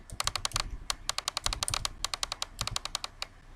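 Rapid clattering keystrokes on a computer keyboard, close and fairly quiet, coming in quick bursts with short pauses between them, with no voices.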